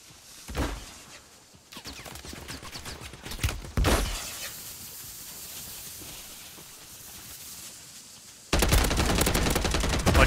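Heavy gunfire in Call of Duty: Warzone from a Striker shotgun, with a few sharp loud blasts spaced apart, then a dense, sustained burst of shooting near the end.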